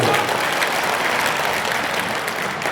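A crowd at a political event welcomes the chief minister with loud, dense clapping, a sustained roar of applause filling the whole stretch without pause.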